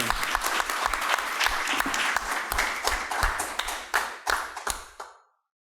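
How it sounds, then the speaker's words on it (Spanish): An audience applauds in welcome of Julio Dañino at a book presentation, a steady burst of many hands clapping with a few sharper individual claps standing out, sustained for several seconds before stopping abruptly. "Muchas gracias por los aplausos"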